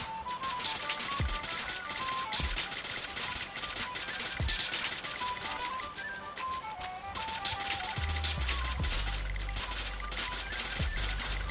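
Gunfire in the Free Fire video game, with rapid bursts of shots and sharp impacts coming through at moderate level over busy game sounds.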